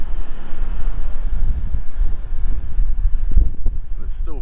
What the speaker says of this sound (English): And it's still very windy.